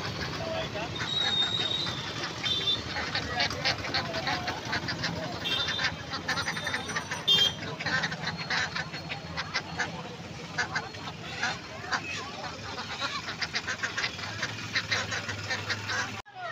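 Desi ducks quack and honk at an outdoor poultry market, their calls scattered and overlapping through steady crowd bustle, with people talking throughout.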